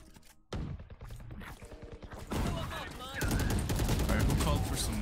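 Rapid bursts of gunfire in the Valorant shooter game, starting after a short pause and growing denser and louder through to the end, with faint voices underneath.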